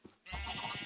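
A sheep bleats once in Minecraft, a wavering close-up baa following a brief soft sound.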